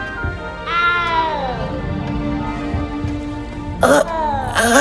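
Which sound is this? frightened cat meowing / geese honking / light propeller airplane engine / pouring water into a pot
frightened cat meowing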